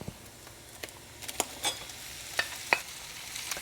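Shrimp hitting a pan with bacon that is nearly crisp, giving a steady low sizzle broken by a few sharp pops and crackles, with quiet stirring scrapes.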